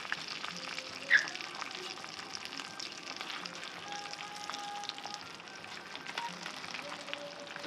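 Zucchini sautéing in butter in a pan: a steady, soft, close sizzle and crackle that runs unbroken throughout, with no talking.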